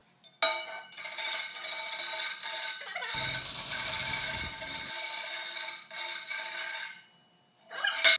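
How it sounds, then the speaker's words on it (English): A file scrapes the inner edges of welded turbo pipes for a junkyard turbo Hemi build, giving continuous close rasping strokes with brief pauses and a short low rumble midway. "So I'm going to file this off a little bit and blow it out before we put it on the turbo kit"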